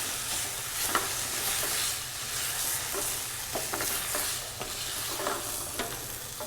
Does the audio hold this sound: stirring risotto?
yes